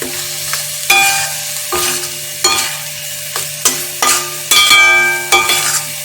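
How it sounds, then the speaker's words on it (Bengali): Spices and onion sauté in a frying pan while a spoon scrapes and stirs in repeated strokes, each pass followed by a loud sizzle, with no talking. "এইভাবে আমি কিছুক্ষণ নাড়তে থাকবো"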